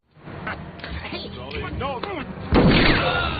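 Several sharp gunshots crack amid shouting voices in an indoor film shootout, building to a louder burst of gunfire near the end.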